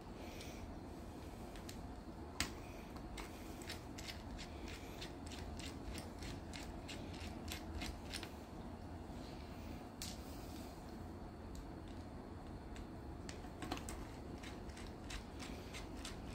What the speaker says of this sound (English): I'm just taking out 3 screws